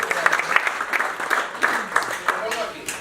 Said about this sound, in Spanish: Un fuerte aplauso a David.